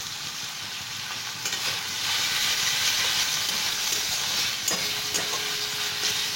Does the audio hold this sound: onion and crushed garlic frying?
yes